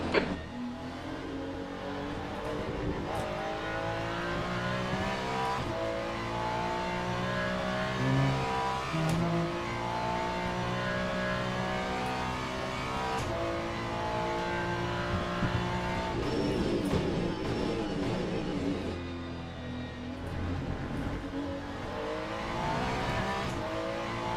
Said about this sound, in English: There's a faster car approaching.